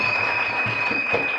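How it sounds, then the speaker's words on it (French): A church congregation applauds, a dense wash of many hands clapping steadily over a brief moment, with voices mixed in. "Acclamez très fort."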